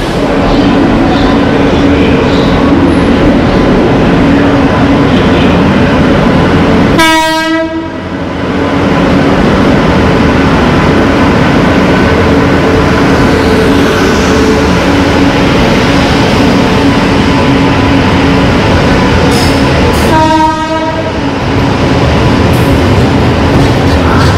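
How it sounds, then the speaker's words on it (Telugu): A train pulls into a railway station with a loud, continuous rumble of wheels and carriages, broken by two long horn blasts, one early and one near the end. "ట్రైన్ వచ్చేసింది."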